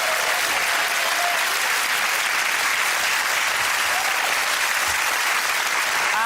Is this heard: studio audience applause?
yes